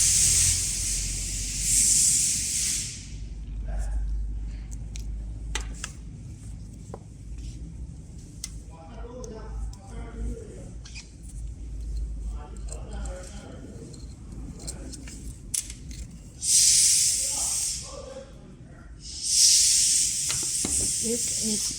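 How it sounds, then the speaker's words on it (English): A positive and negative pressure tester on a Delphi F2E diesel injector lets out bursts of loud hissing air at the start and again near the end, with quieter clicks and handling noises between. "Now we will use the positive and negative pressure device."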